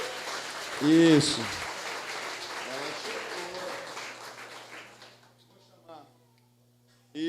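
A church congregation at a Sunday evening family service gives a soft, scattered round of applause that tapers off toward the end, while a voice speaks over the clapping in the room.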